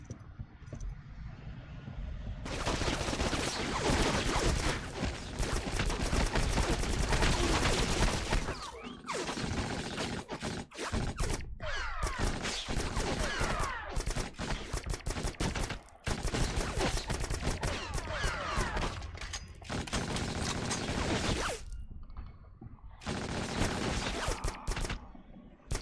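Bursts of video game gunfire from a weapon being tried out, loud, dense rapid volleys with brief gaps, continuing steadily through the whole stretch.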